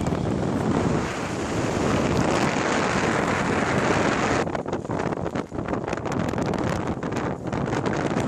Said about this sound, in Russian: Очень-очень сильный ветер.